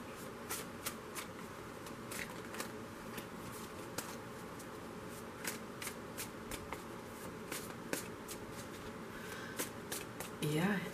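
A deck of tarot cards is shuffled by hand, a quiet run of rapid riffling and soft card slaps repeating steadily, faint and close, with a brief louder rustle at the end.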